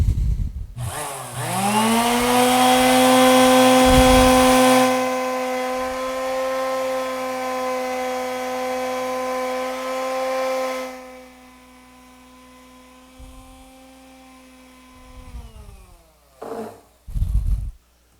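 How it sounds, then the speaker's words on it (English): A palm sander smoothing a wooden tool handle gives a loud, steady motor whine that starts abruptly, runs for about ten seconds, winds down, and ends with a few short knocks. "then I take my little sander and just a palm sander"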